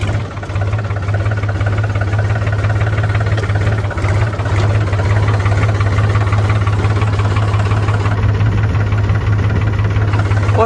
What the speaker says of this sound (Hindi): तो ये कम एक्सीलेटर में चलता नहीं है ट्रैक्टर।